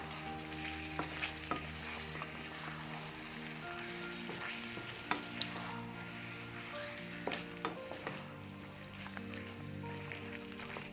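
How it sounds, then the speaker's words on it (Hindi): Red chilli, turmeric and coriander powder are stirred into frying meat with a quiet continuous sizzle, scraping strokes and a few sharp clinks of a spoon against the pan, no talk. "और इन सभी चीज़ों को अगेन हम करते हैं प्यार से मिक्स"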